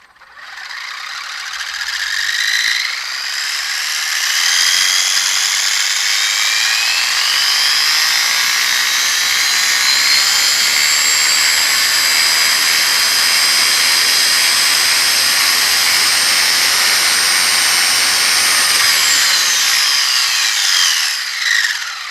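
A Traxxas RC car motor held at partial throttle gives a loud, steady high-pitched whine with slight pitch sweeps, running continuously for about twenty seconds with no talking.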